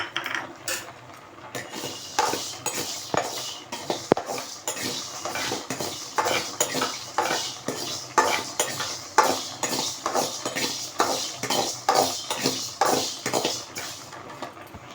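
A metal spoon scrapes and clinks repeatedly against a pan in a steady rhythm, with a light dry rattle of cumin, fenugreek and mustard seeds being stirred and fried.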